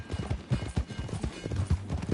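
Horse hooves in Red Dead Redemption 2 beat out a steady, rhythmic clip-clop during a ride, with the footfalls close and clearly audible and faint speech-like sounds mixed in.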